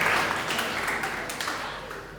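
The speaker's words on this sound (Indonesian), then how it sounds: "Tepuk tangan dulu, tepuk tangan dulu." A church congregation at an anniversary celebration service bursts into brief applause, a dense burst of clapping from many people that tapers slightly over two seconds.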